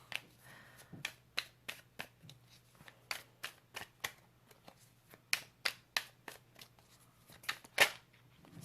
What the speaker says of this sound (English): As always, I have to drop the cards at least once.